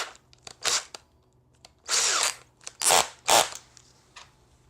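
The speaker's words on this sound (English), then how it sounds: "fit the screws into the raw plugs" A cordless drill in screwdriver mode drives screws into wall plugs while a whiteboard is mounted, giving several short whirring bursts of varying length close by with pauses between them.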